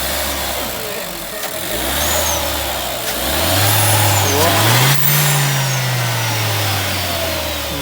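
A 2020 Renault Captur SUV's turbo engine idles and then revs up with a rising, whining surge that holds before settling, loud and close, with voices alongside.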